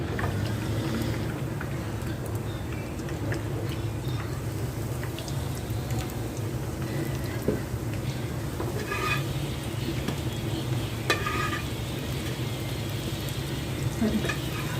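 Chicken wings for KFC-style crispy hot wings frying in oil, a steady, even sizzle with faint crackles running through the whole stretch with no talk over it.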